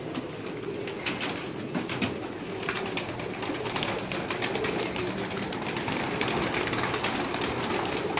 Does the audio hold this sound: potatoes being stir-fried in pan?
no